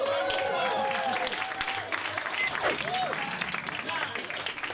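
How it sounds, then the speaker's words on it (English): Audience applause in a theatre, a wash of clapping heard under ongoing amplified speech from a presenter, moderately distant and fairly quiet. "Give yourselves a round of applause"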